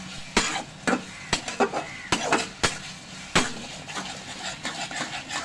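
Spoon or spatula scrapes and knocks against a pan as salt, cumin, cardamom and cinnamon powders are stirred and sautéed for a Khulna-style tiger prawn bhuna, a string of sharp clinks over a faint background.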